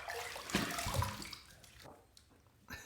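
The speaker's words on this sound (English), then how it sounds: "Let's rinse." Water running from a tap while rinsing a Tribute R41 safety razor, a quiet splashing flow with a couple of brief louder knocks early on, fading to a faint trickle before a short final splash.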